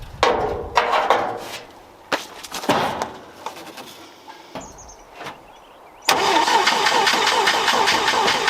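A 1980s International Scout engine cranks slowly and steadily through a few stuttering attempts, then catches and settles into a loud, even idle close by.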